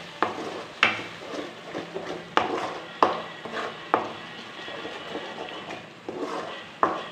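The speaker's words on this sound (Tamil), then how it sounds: "இப்போ இது எல்லாத்தையும் நல்லா மிக்ஸ் பண்ணி விடுங்க." A spoon works through coconut tamarind masala for fish curry in a pot, with soft scraping broken by sharp metallic clinks against the pan every second or so, close and unaccompanied by speech.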